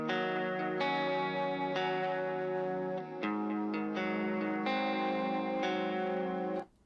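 Distorted electric guitar take from a rock song mix, left channel, playing sustained chords that change roughly every second, close and full with effects and a touch of echo, no voices.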